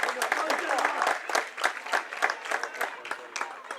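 A Clare crowd applauds at an All-Ireland camogie semi-final against Armagh, a burst of fairly close, dense clapping that tapers off over a few seconds.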